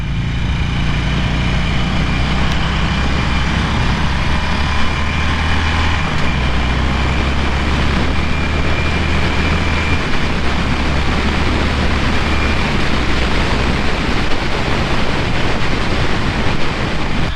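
A 2017 Harley-Davidson Sportster Roadster with a 1200cc V-twin accelerates on the road, its low engine drone steady under loud, continuous wind rush throughout, with no talking.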